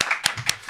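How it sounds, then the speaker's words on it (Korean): Quick welcoming claps for a guest arriving on a Korean political talk show, a couple of sharp distinct hand claps within a brief burst, close and moderately loud. "큰 박수로 환영해 주십시오"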